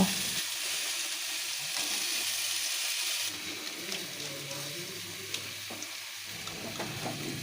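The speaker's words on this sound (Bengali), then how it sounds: "বড়াগুলো বেশ সুন্দর ভাজা হয়ে গেছে" Sweet rasbora fritters bubble and sizzle in hot oil, a soft continuous crackle with a few faint clicks of a utensil, quieter in the second half.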